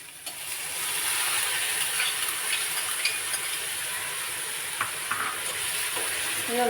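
Curd and green chillies cooking together in a pan give a steady, close frying sizzle and hiss with a few faint clinks and scrapes of stirring, heard alone with no voices.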